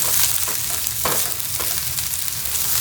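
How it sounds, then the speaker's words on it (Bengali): Food fries in a pan with a continuous, close sizzle and a few soft scrapes of stirring, with no voices. "দেখি এটা ভাজা ভাজা হয়ে এসছে"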